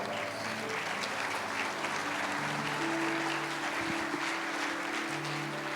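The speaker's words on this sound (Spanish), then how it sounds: "Y se va a aplaudir, aplauda." A church congregation applauds during a sermon, producing dense, steady clapping that holds at an even level throughout, with faint voices underneath.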